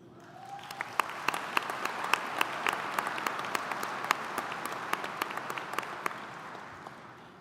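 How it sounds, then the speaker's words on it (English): A commencement audience at UW-Superior applauds legacy families, with broad, sustained clapping from a large crowd that swells in and holds steady for several seconds, sharp individual claps standing out over the dense wash. "Let's also give a round of applause for all the legacy families with us today."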